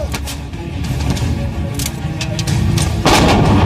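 Artillery guns fire in a series of booming, rumbling blasts that roll into one another, loud and continuous, with a heavier shot toward the end.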